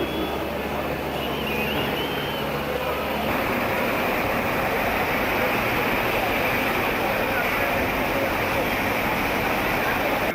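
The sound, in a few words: drinking fountain water running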